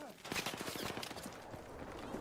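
Rapid automatic gunfire in the Battlefield 6 video game rattles out in a fast burst of close, sharp shots, with a voice talking over it.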